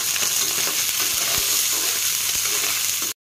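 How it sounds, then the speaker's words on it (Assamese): Chicken pieces fry in a little oil for a Maggi roll, a loud, continuous sizzle with a few soft stirring knocks, then sudden silence at the very end. "অকমান তেল দি ললো ধুনীয়াকে চিকেন খিনি এখিনি অকমান ভাজি লব লাগিব"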